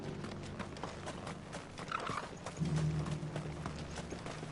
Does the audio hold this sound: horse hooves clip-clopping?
yes